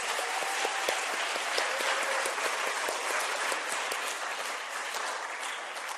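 A church congregation at a Wednesday worship service applauds in thanks for the pastor's sermon, a continuous, even wash of clapping with a faint sustained tone in the background.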